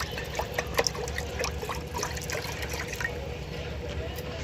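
Water poured into a wok to be heated for sabudana: a close, splashing pour and trickle that eases off toward the end.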